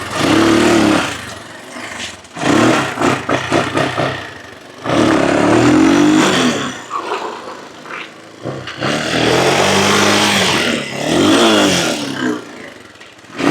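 A Honda XL 185 motorcycle engine runs close by, revving in several loud bursts with pauses between them where it drops back to idle.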